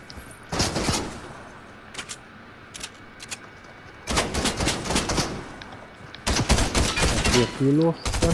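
Bursts of gunfire in the video game Fortnite, rapid clusters of sharp cracking shots separated by short quiet gaps, fairly close and loud, with a heavier sustained volley near the end.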